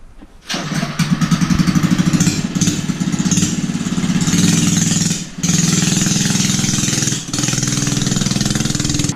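A small Volkswagen mini bike engine cranks and catches, then settles into a loud, close, rapid buzzing idle with brief dips in revs.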